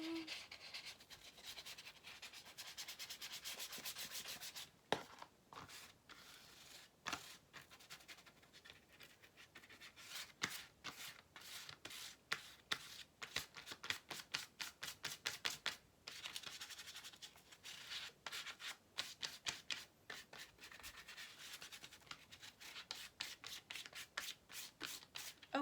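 Brush strokes of brown paint rubbing and scratching across a paper plate for a pirate boat craft, a steady run of close, soft scraping strokes with short pauses.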